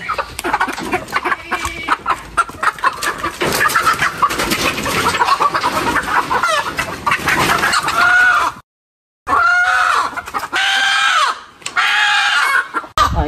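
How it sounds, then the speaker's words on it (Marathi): Chickens cluck and squawk loudly and close by in a village setting, with excited rising calls from the fowl and a brief silent break midway. "आईला कोंबड्यांचा आवाज येतोय."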